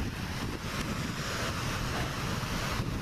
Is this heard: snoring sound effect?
no